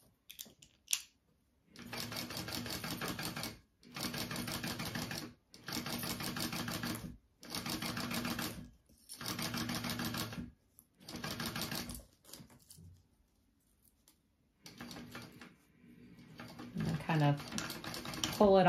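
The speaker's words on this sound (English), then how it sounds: "All right, so I'm just basting." A sewing machine runs a basting stitch along a seam on a triple-zip crossbody bag, in six bursts of rapid stitching separated by short pauses, close and clear, with faint sounds of fabric handling afterward.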